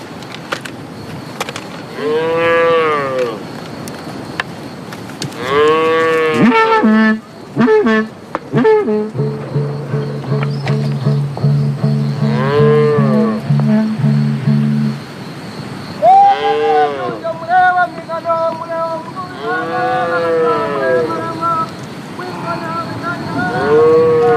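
Himba cattle mooing in a rural setting, several long, deep harmonic moos repeating through the clip, some close and loud, others overlapping, with a steady background hum.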